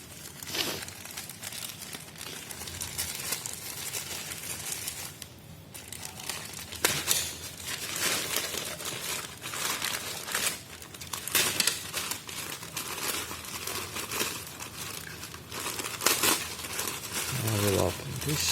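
Plastic packaging of a GoPro neck holder lanyard strap crinkles and tears up close, in continuous bursts of rustling that run almost throughout, with a person talking intermittently over it.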